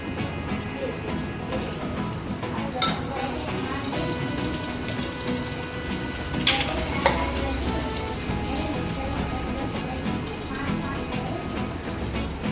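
Mustard seeds and cumin sizzle in hot tempering oil, a moderate continuous hiss punctuated by a few sharp pops and crackles, with faint voices nearby in the background.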